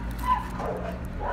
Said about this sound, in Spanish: Disculpen por los perros, pero pues ahí andan tocando con los vecinos.